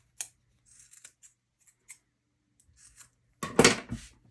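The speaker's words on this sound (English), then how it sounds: "we're going to trim this up here" Sharp scissors snip through fabric while a holiday gift is sewn, a few quiet scattered cuts followed by a louder burst of snipping near the end, close and alone.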